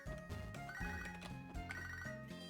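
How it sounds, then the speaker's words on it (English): A phone rings in Pokemon SoulSilver, a chiptune ringtone repeating its bright warbling melody over a steady bass line, clear and fairly quiet with no talking. "We're not going to answer that phone call."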